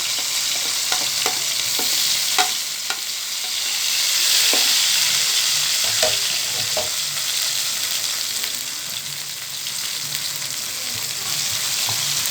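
Mushrooms fry in a pan for mushroom mandi rice, with a continuous close sizzle and occasional scraping clicks as they are stirred.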